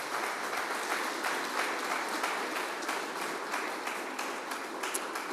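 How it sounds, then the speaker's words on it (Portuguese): Church congregation applause during a Sunday celebration service, a steady wash of many hands clapping for several seconds, moderately distant and without speech. "Você pode dar um forte aplauso ao Senhor."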